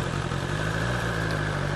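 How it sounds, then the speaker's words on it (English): A 2020 BMW S1000XR motorcycle engine braking after a downshift, with a steady, loud mechanical drone and low rumble and no other sounds over it. "That is your engine brake effect."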